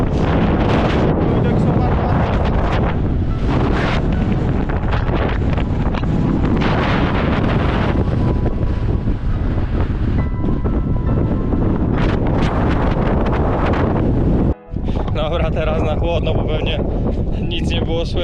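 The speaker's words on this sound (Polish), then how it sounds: "bo wiatr był jak sku... Wiało także no fest" Strong, roaring wind buffets the microphone almost continuously on the summit of Babia Góra (1725 m), loud and rough, with a brief lull near the end.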